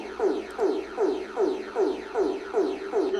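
Barbados emergency alert sound with a club-music feel: a pulsing, rhythmic series of descending synth swoops repeating about twice per second, steady and moderately loud.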